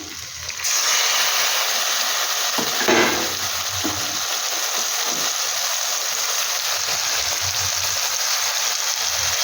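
A metal spatula stirs mashed eggplant (begun bharta with egg) in a hot pan, with a loud continuous sizzle and frying hiss running throughout and a few soft scraping strokes near the start, close up with no talk.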